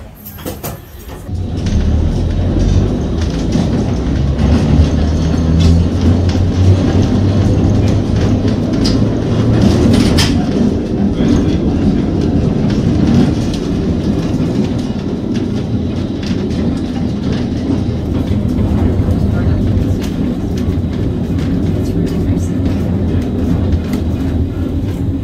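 Christchurch city tour tram running along its tracks, a loud steady low rumble with rattling and a sharp clatter partway through, continuing evenly to the end.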